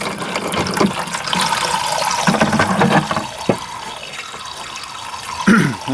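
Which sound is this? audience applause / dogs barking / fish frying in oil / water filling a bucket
water filling a bucket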